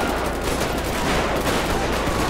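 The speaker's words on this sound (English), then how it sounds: "Will you hear them guns?" Sustained heavy gunfire from a GTA 5 police mod shootout, a dense continuous barrage of shots with no pauses, loud and close throughout.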